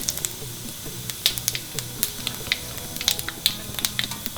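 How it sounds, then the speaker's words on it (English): Cumin and kalonji black onion seeds sizzle in hot oil in a pan, a steady close hiss with scattered sharp pops and crackles spread unevenly throughout. "So as soon as your oil gets hot, the first thing you put is the jeera seed. Then you put the kalonji, the black onion seed."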